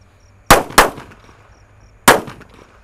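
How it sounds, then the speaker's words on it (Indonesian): Super Whistling Thunder firecrackers exploding at night: three sharp, loud bangs, two in quick succession and a third about a second and a half later, each with a short ringing decay over quiet background. "Selanjutnya ini ada Super Whistling Thunder ya"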